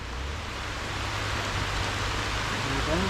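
Rain falls steadily during an offroad outing at Koinipara, Kothamangalam, a dense even hiss of drops on surfaces that continues without a break, with a faint low rumble beneath.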